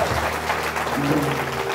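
Church congregation applauding during a sermon, a steady dense wash of clapping held at even loudness for under two seconds, with a sustained tone, probably music, beneath it.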